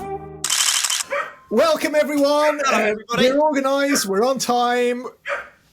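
A dog gives a short bark or two right at the start, close and loud, and then someone speaks steadily with no more barking.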